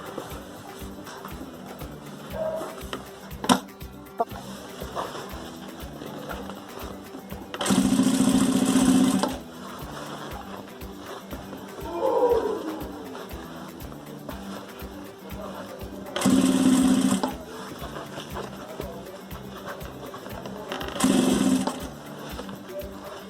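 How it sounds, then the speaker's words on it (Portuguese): A sewing machine runs topstitching on a crochet bucket bag in three separate bursts of steady whirring, each lasting a second or two, with quieter handling sounds in between. "E a gente vai passar o pesponto aqui."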